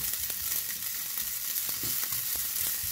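Thin noodles frying in a pan for an oyster mushroom and chicken dish, giving a steady, loud, close sizzle with faint crackles and a few light stirring knocks throughout, with no voices.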